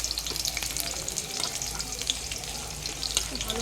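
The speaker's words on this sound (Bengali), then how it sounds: "আর এই যে মৌরলা মাছ ভাজা হচ্ছে" Mola fish with onions frying in oil in a wok, a steady close crackling sizzle with scattered sharp pops and spatters throughout, no voices.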